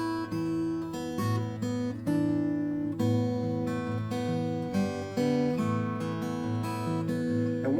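Acoustic guitar playing the introduction of a song, a continuous flowing picked and strummed pattern with ringing chords, close and steady throughout, without voices.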